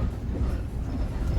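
A train rolls along the rails with a constant low rumble, heard from inside the moving carriage.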